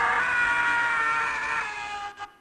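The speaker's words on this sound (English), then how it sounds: "There's another one called the Howie scream," The Howie scream stock sound effect: a single loud, drawn-out wailing shriek that holds steady for about two seconds, then breaks off abruptly with a brief catch at the end.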